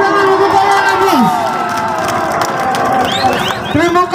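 Crowd cheering and applauding at an Indonesian street carnival, a dense wall of shouts, whoops and children's yells, with whistles sliding up and down, loud and continuous throughout.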